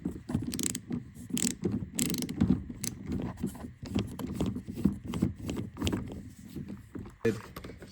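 A ratchet works a 7mm bolt loose from the rear interior door panel of a Jeep Grand Cherokee, giving a close, steady run of quick clicking pawl ratchets with short pauses between strokes.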